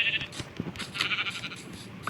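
A goat in the Minecraft video game bleats in a few short, wavering calls at moderate volume.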